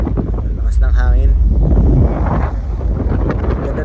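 Strong wind buffets the microphone at a seaside lookout over islands near Victoria, British Columbia, a loud continuous roar with gusts, while a person speaks briefly over it.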